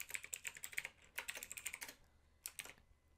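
Quick, light keystrokes on a computer keyboard type a terminal command to switch to the Postgres user, in two bursts of clicking separated by a short pause, close and fairly quiet.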